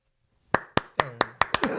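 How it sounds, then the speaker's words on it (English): A person claps their hands about seven times after a short silence, sharp close slaps speeding up toward the end, loud and alone. "I'm good at clapping."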